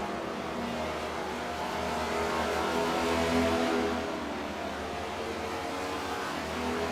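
Race cars roar down the backstretch at Chicagoland, a steady loud engine drone with sustained high revs and no break.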